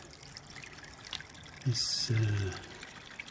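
Water spills over the weir of a black acrylic aquarium filter. A faint trickle and splash are heard, with a brief louder gush near the middle. A voice talks over it.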